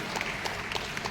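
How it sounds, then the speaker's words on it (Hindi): Audience applause at an app launch event in Kolkata, a steady wash of many hands clapping from a crowd, continuous and moderately loud throughout the short stretch. "मैं चाहता हूं एक बार हम सब लोगों के लिए एक बार जोरदार तालियां फिर से होनी चाहिए"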